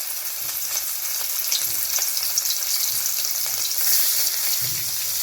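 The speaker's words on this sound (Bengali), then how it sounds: "এবার আমরা আঁচ কমিয়ে দিয়ে হালকা করে এটাকে ভেজে নেব।" Marinated prawns coated in rice flour fry lightly in hot oil over low heat for a chilli garlic prawn dish, giving a steady, dense sizzle that runs evenly throughout with no talking.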